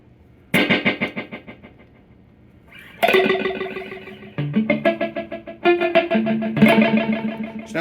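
An electric guitar plays through a Boss DD3 delay pedal with a Keeley mod, giving bursts of distorted chords and notes. Each attack is followed by a string of rhythmic decaying echoes, close and loud, with no talking.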